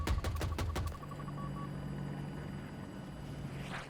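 An attack helicopter in Battlefield 2042 sends a fast rotor chop and engine whine up close, then settles into a steady drone over a rumbling battlefield background, with no voices.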